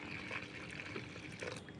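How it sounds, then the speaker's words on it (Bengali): Water is poured into flour for kochuri dough, a soft continuous trickle and splash heard close and fairly faint over the short stretch, with no talking. "আমি এটা পরিমাণ মতো জল দিয়ে দেবো"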